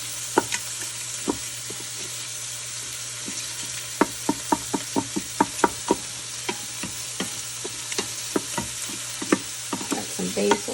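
Onions and pork being stirred in a hot frying pot: a steady sizzle runs throughout, broken by repeated sharp scraping and clacking strokes of the utensil against the pot, irregular and close.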